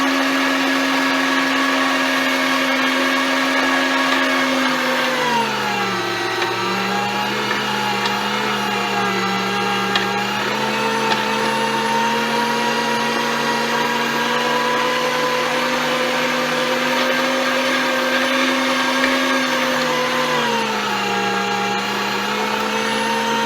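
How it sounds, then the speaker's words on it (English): An electric meat grinder runs nonstop, pushing bread through to clear out leftover venison sausage meat. Its loud motor whine dips briefly twice under load and then recovers. "I'm going to run a few pieces of bread, stuff it down, which is going to get inside the grinder and kind of push the rest of the meat out"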